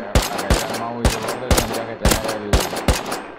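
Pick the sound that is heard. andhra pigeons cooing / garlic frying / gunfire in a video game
gunfire in a video game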